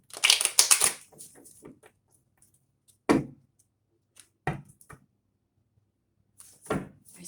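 Tarot cards shuffled by hand, a dense riffling burst at the start followed by a few sharp, isolated card slaps and flicks separated by quiet pauses, close and fairly loud with no talking.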